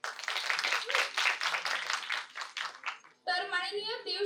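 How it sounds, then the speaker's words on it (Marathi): A college farewell audience applauds a guest at a communication and media college event: a burst of crowd clapping of moderate loudness, rising and falling, that stops abruptly before a voice starts speaking. "त्यांच्यासाठी जोरदार टाळ्या होत आहेत"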